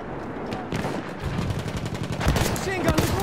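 Machine gun fire in the Battlefield 1 video game, heard as dense, continuous loud bursts with overlapping shots and rumbling impacts, with some game noise mixed in.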